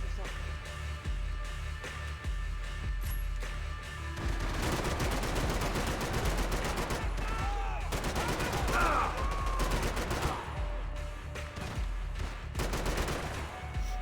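Gunfire in the video game Max Payne 3, sparse at first and then breaking into sustained bursts of automatic and single shots, loud and close, mixed with game sounds and a player talking.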